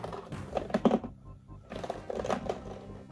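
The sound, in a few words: loose piece rattling inside blind box packaging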